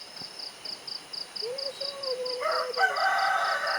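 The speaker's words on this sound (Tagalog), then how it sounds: "Yun ang taok-taok yung manok. Buti pa yung manok lumaok na." A rooster crows once in a long, drawn-out call, fairly distant, over a steady high insect chirp and light background noise.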